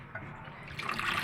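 Hot water running and splashing as a kitchen utensil is rinsed clean, a short close burst of flowing liquid that swells louder toward the end, with no talking.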